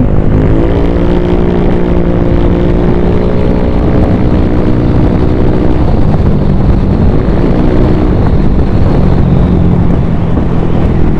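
A Honda Click 125 scooter fitted with a Replica Pro exhaust pipe runs steadily, a loud, close, continuous engine drone with a smooth, even tone and slight pitch shifts, no talking over it.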